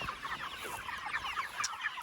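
Broiler chickens on pasture cluck and chatter steadily as a flock, getting ready for their morning move, with many overlapping calls close by and no talk.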